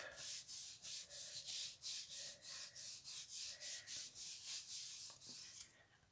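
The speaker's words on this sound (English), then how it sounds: "Really rub it down this time." Card rubbed firmly down onto a gelli printing plate gives a fast, even run of soft rhythmic rubbing strokes, roughly three per second, close and fairly quiet, with no talking.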